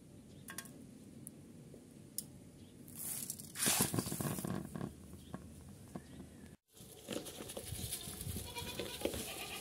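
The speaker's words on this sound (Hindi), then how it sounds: "ये देखें कितने शौक से खा रहे हैं बकरे" Goats (bucks being fattened for Qurbani) eating a mixed grain feed, with close tearing and munching sounds, an occasional bleat and a brief dropout partway through.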